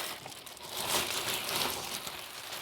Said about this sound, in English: So let's get rid of the plastic bag.